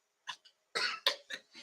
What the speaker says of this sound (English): Don't be coughing in this church.